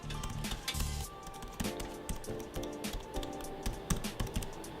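Steady rapid typing on a space grey full-size computer keyboard with a numeric keypad and arrow keys, a dense run of close, crisp key clicks and clacks with no talking.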